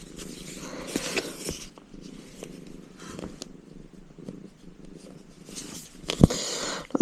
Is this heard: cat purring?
yes